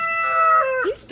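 A rooster gives a single full crow on a Texas farm with chickens. The call is loud and close, about a second long, and no one talks over it.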